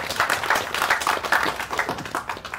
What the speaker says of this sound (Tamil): அதனால தயவு செஞ்சு நீங்களே ஒரு தடவை கைத்தட்டிருங்க.